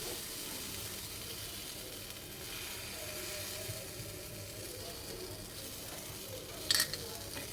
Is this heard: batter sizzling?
yes